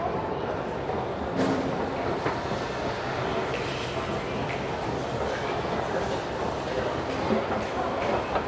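A Toronto subway train at the Eaton Centre station rumbles and clatters steadily at moderate loudness, with a few sharp clicks of wheels over track joints and a busy station hum behind it.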